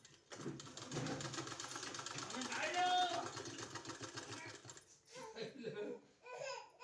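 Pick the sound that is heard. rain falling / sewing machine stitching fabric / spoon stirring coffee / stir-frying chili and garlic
sewing machine stitching fabric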